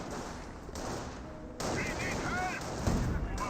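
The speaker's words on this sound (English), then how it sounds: "Panzer firing good shot there" A Panzer tank fires in the Company of Heroes game amid ongoing battle noise, with a broad steady rumble of gunfire, a sharp jump in intensity midway and a punchy shot near the end.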